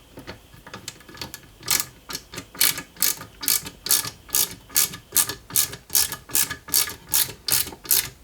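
A screwdriver drives a screw into a side rail of a 1/8-scale Nissan Skyline GT-R model car, making a close, steady series of ratcheting clicks that speed up into an even rhythm.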